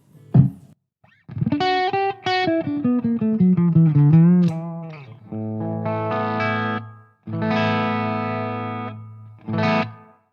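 A Schecter Banshee electric guitar plays through a Marshall DSL 100H amp with reverb switched on: a distorted sliding lead phrase followed by sustained chords that ring out, fairly loud, with no talking.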